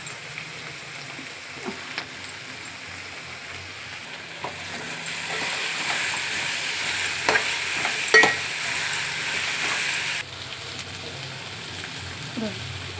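Ginger paste fries in a pan for a raw cashew curry, giving a constant moderate sizzle broken by occasional scraping taps of a spoon, with a brief pause near the end.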